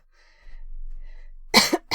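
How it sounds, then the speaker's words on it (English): A person with a lingering cough after weeks of illness lets out two or three close, harsh coughs in quick succession near the end, after a quiet stretch with faint background hum. "It's just a cough now."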